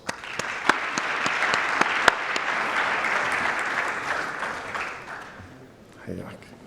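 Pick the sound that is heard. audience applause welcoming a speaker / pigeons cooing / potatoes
audience applause welcoming a speaker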